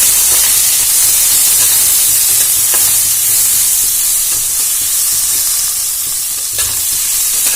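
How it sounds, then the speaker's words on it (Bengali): Dried mango pieces frying in a pan give a loud, steady hissing sizzle, with faint intermittent stirring scrapes beneath, close and constant for several seconds without speech. "এবারে ভালো করে নাড়াচাড়া করে ভেজে নেব।"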